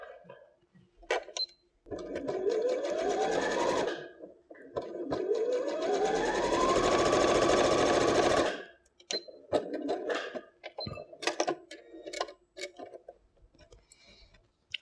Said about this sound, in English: place them right sides together, and just stitch along that diagonal edge with a 5mm seam allowance